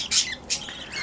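Budgerigar chicks squawk in a nest, giving two loud, harsh bursts followed by softer chirps, heard close up.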